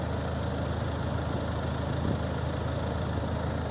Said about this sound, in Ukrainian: Тут двохлітровий дизельний мотор на 163 кінських сили з автоматичною коробкою передач 6-ступеневою.